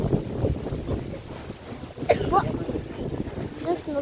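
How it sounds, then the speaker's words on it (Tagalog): Wind blows outdoors in steady, rumbling gusts against the microphone, with a person talking briefly over it. "Nakahangin."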